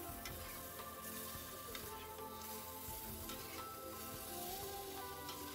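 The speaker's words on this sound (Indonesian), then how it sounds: "Kalau saya lebih suka ayamnya itu saya tumis seperti ini ya." Chicken stir-fried in a pan, a faint continuous sizzle with light stirring scrapes, heard under soft background music.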